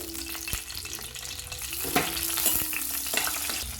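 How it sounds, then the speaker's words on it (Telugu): Green chilies crackle and sizzle in hot oil in a pan, a steady close frying hiss with a few sharper pops and occasional clanks, ahead of onions and capsicum for a curry. "ఆయిల్ వేడెక్కింది కదండి ఇప్పుడు పచ్చిమిర్చి వేసుకోవాలి"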